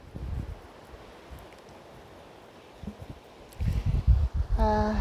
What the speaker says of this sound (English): Plus there's a big wind.